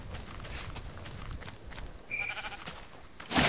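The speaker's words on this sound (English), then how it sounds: "Stupid sheep knocking me off." Sheep bleat in Minecraft with the Tekkit modpack, one short clear bleat rising midway above a faint, steady background, then a louder noisy burst at the end.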